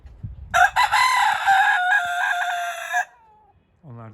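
A Fayoumi rooster crows loudly and close by, one long, strained call lasting over two seconds, followed by a few soft clucks from hens.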